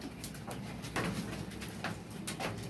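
Pigeons cooing close by, a trimmed pigeon being inspected, with repeated soft throaty coos layered over steady broadband noise throughout.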